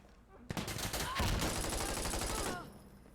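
Dense, sustained automatic gunfire and overlapping shots from a competitive multiplayer shooter match, loud and continuous for about two seconds after a sharp onset, then cutting off abruptly.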